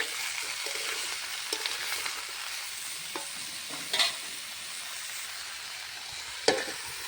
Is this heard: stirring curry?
yes